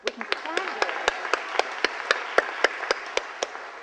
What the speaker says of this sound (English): Robin, oh, we can clap.